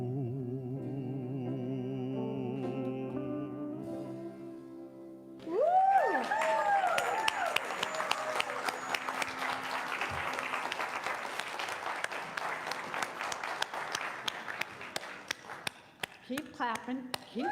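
Audience clapping at a church service: the clip opens with singing and music, then a broad, sustained round of applause takes over for the rest, with sharp individual claps standing out and a voice calling out near the end.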